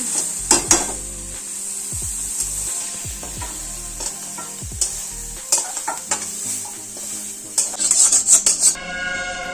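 Soyabean curry sizzles steadily in a pan while a spoon stirs and scrapes it, with repeated clanks of metal against the pan and a loud burst of clatter near the end.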